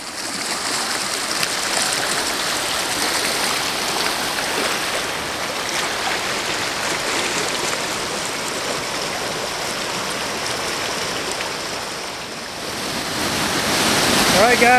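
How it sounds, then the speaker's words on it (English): River water at Big South Fork lapping against rocks, a steady broad wash of flowing water with wind noise on the microphone, continuous and moderately loud, swelling near the end. "I don't know if you can hear those waves lapping those rocks down there."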